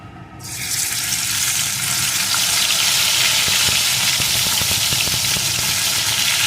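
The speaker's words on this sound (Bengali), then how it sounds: "এখন আমি লবণ হলুদ মাখানো ইলিশ মাছের মাথাটা প্রথমে ভেজে নেব" Hilsa fish head rubbed with salt and turmeric frying in hot mustard oil, a loud steady sizzle that swells after the head drops in and holds close and continuous with no talking.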